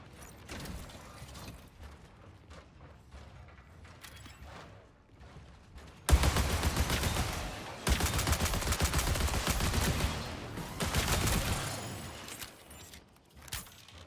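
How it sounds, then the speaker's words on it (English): Rapid bursts of gunfire in the Aimlab shooting game, quieter scattered shots at first, then a loud sustained volley of rapid automatic fire that trails off near the end. "He's shooting at somebody."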